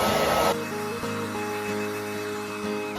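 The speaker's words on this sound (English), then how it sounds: "Sometimes it's good to use a blow dryer and put it over it to help the cells pop out." A hair blow dryer on its low setting blows steadily over a wet acrylic paint pour to pop cells, a continuous motor whir and airflow hiss heard close and alone after a brief louder burst at the start.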